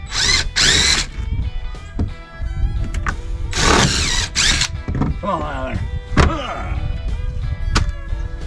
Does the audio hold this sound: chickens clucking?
no